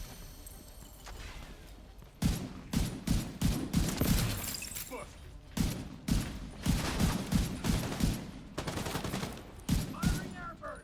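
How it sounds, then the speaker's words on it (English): Rapid air-burst gunfire in the shooter game The Division 2, with loud clustered shots and crackling volleys repeating in bursts across the clip, some game voice in the background. "Firing air burst."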